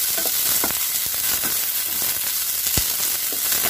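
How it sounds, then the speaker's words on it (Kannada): Cluster beans fry in hot oil with a dense, continuous hiss and crackle that stays loud throughout, with a few soft stirring knocks and no voices. "ಎಣ್ಣೆ ಹಾಕಿ ಹುರಿದ್ರೆ ಒಂದು ಸ್ವಲ್ಪ ಚೆನ್ನಾಗಿರುತ್ತೆ ಟೇಸ್ಟು."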